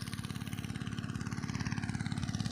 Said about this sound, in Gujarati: આ છે આપણું મિની ટ્રેક્ટર આવી રહ્યું છે